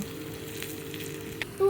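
Bitter gourd (karela) slices frying in oil in a non-nonstick kadai, a soft steady sizzle with a brief clatter near the end.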